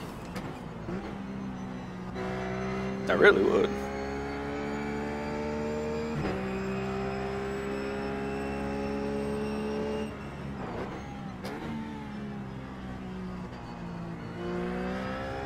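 Race car engine in the iRacing simulator on the Bathurst circuit, a sustained droning whine that shifts pitch with gear changes and throttle, with a brief remark spoken over it.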